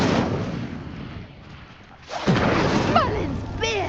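The Incendio fire spell in Hogwarts Legacy, a loud whooshing burst of flame with booming rumble following a quieter stretch, while a voice speaks over the noise.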